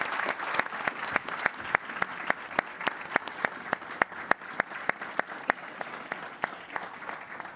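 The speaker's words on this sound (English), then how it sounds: "let's give him a round of applause and allow him to leave" Applause at a press event in Tallinn with UK, Norwegian and Estonian prime ministers: steady, fairly faint clapping with sharp individual claps standing out at a regular pace, no voices over it.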